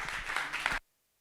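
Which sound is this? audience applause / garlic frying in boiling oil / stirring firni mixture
audience applause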